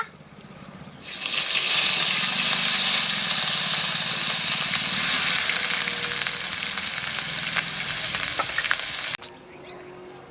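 Onion paste hitting a hot cooking pan, an abrupt burst of loud, hissing sizzle that stays steady and close for several seconds before cutting off.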